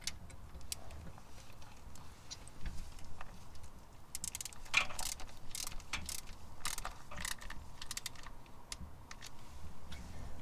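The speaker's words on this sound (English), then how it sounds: "We're going to torque all these bolts for this plastic timing cover" A torque wrench tightens the bolts on the plastic timing cover of a Toyota 3.4L V6 5VZ-FE engine, making faint, scattered ratcheting clicks and ticks over quiet workshop background, with no talk.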